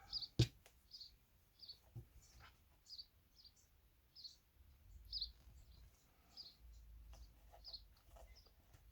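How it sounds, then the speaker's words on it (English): Faint high bird chirps repeat in a steady, evenly spaced pattern against a quiet background, with a few soft thumps. "You can hear the birds chirping."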